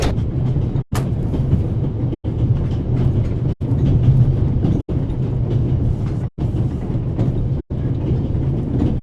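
A train runs steadily in The Raven, a constant rumbling roll near and fairly loud, broken at regular intervals by sharp rail-joint clacks.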